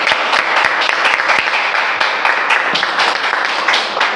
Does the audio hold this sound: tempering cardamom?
no